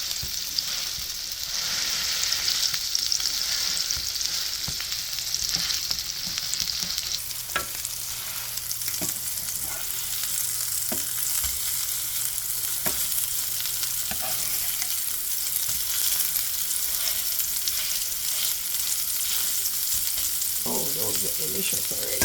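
Burger patties frying well done in a pan, a steady broadband sizzle running throughout with a few faint clicks and scrapes, no voices.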